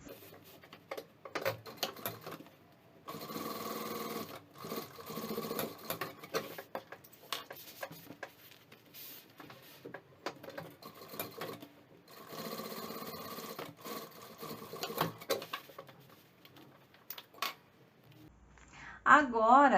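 A sewing machine stitches a seam on a fabric necessaire with backstitching at the start and end, several bursts of rapid mechanical whirring separated by short pauses, close up, with brief talk near the end.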